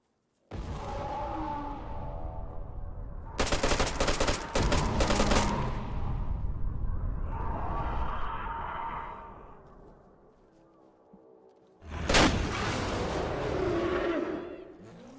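Bursts of gunfire in the survival video game DayZ, on a Takistan map, ring out as rapid volleys of several loud shots, then a quieter stretch with game ambience, then another sharp loud burst near the end.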